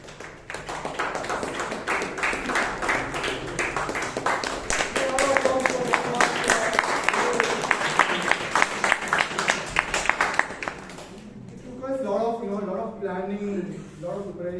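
Audience at a Toastmasters club meeting in Bangalore breaking into a long burst of dense, steady clapping that fades out, followed by a person speaking alone.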